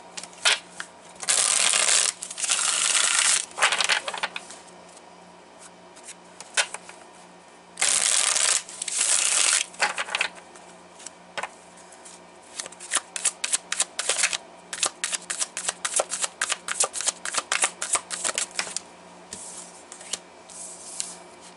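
Tarot cards being shuffled by hand: bursts of riffling flutter alternate with pauses, then a long run of quick sharp card snaps and slaps, close and crisp with no speech.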